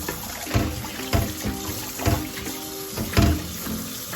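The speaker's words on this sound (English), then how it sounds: "Very important, guys, to wash your poultry or your meat, okay, before you cook it or season it." Raw chicken for Jamaican jerk chicken is rinsed under a running tap: water splashes and gushes steadily into a sink, with several louder splashy surges as the pieces are turned, close up and with no talk.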